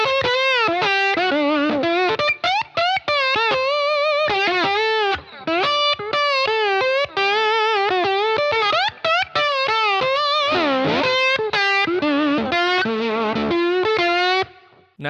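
Slide guitar, played through the bridge pickup with the tone knob rolled halfway, runs through a continuous overdriven melodic phrase of gliding, sustained notes with vibrato for about fifteen seconds, loud and close, with no voices.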